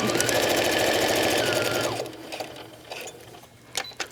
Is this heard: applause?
no